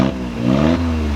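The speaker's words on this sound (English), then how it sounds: "I'm gonna rev the Smart and then turn off the Bronco" A Smart car engine revs hard, pitch climbing and then holding at a high, loud steady whine for about a second, with no other sound.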